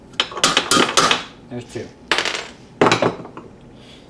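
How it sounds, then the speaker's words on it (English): Sharp metallic hammer strikes knock alignment pins out of a Model 2 siren, several loud ringing clanks in irregular bursts with a brief spoken remark between them. "Let's take a hammer and just knock them out right here."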